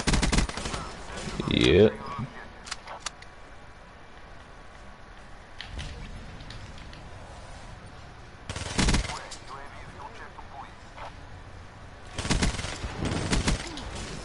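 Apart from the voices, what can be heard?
sniper rifle gunfire in video game Call of Duty: Black Ops 3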